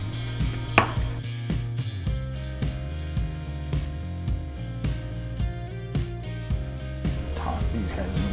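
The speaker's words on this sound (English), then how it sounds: "we're gonna chop up some of these baby carrots to go into our" Baby carrots for a stir fry are chopped on a board with a knife, a close, crisp run of quick irregular thuds under music.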